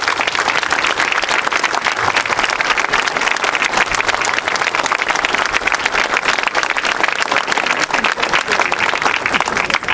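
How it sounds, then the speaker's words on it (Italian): Sustained, loud crowd applause at an Italian demonstration, dense clapping filling the whole stretch without pause. "Io credo che tutti assieme noi dobbiamo farci un grande applauso"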